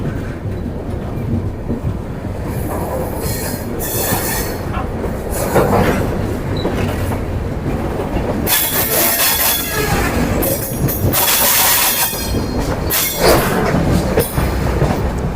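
A goods train running on a parallel track during a train journey in India, loud and close, with continuous rumbling and rhythmic clickety-clack of wheels and bursts of rushing wind as the wagons pass.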